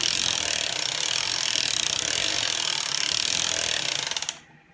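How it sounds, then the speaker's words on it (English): Knitting machine carriage cranked forward while casting on, giving a steady, dense mechanical rattling and clicking for about four seconds before stopping abruptly, close and alone without voices. "We're going to crank forward."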